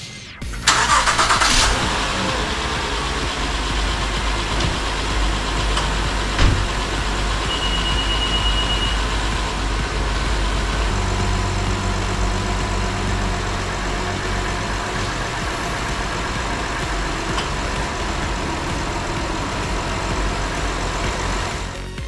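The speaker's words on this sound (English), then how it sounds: "So I'm gonna turn the car on" A 2016 Honda Odyssey minivan engine cranks and catches, then settles into a steady, low idle that runs on unchanged, with no talking.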